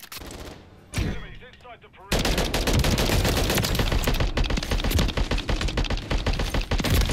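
Automatic gunfire in Call of Duty: Modern Warfare, a brief quieter burst of shots early on, then from about two seconds a dense, loud, unbroken rattle of rapid fire that continues to the end.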